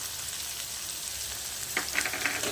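Vegetables frying in a pan with soy sauce, a soft steady sizzle with a few brief crackling pops toward the end, quiet and close with no talking.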